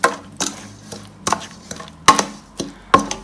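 Chicken mandi ingredients being mixed in a pot, with sharp spoon-on-metal knocks at irregular intervals, about seven clacks over a few seconds, near and clear, and no talking.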